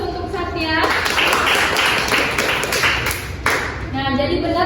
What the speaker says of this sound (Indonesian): Beri aplaus untuk Satya.